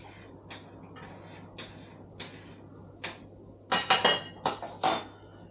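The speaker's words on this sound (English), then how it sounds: "I find you got to give it a stir to stop it sticking" A spoon stirring a pot of fish dinner coming back to the boil gives spaced metallic clinks and taps against the pot. They are soft at first, then louder and quicker near the end, with no talking.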